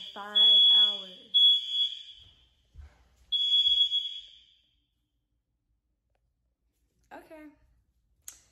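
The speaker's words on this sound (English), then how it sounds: "So the fire alarm finally stopped." An apartment smoke alarm shrieks in loud, piercing bursts of high beeping, separated by pauses with faint clicks, then falls silent; someone speaks briefly between the bursts.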